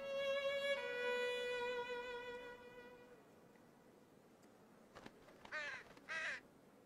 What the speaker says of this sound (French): La petite corneille s'attaque, elle, d'abord aux yeux.